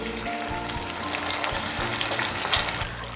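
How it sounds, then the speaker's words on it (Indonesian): Curly chilies, large red chilies and red tomatoes fry in hot oil for a sambal, a steady close sizzle with crackling spatter and occasional stirring scrapes in the pan. "cabai keriting dan cabai merah yang besar, tomat yang merah, semuanya saya goreng, digoreng sampai matang ya"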